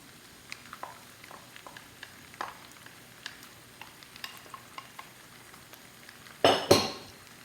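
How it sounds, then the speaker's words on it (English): Onion and celery sautéing in melted butter for a stuffed pork loin, heard as soft intermittent clicks and light pan contact, then a louder clatter of utensils near the end. "We want to saute these just until they're softened."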